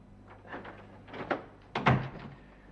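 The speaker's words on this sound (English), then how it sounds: "Close the door, will you?" A door is handled with a few light knocks and clunks, then closes with a heavier, close thump near the end, in a quiet indoor room.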